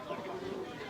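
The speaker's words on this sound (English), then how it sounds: "I have managed to raise about 150 chickens in my backyard" Chickens in a small backyard poultry farm of about 150 birds, clucking in a brief, continuous murmur of overlapping calls at moderate loudness.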